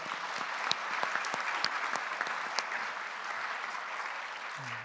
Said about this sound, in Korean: 다시 한번 큰 박수 해 주십시오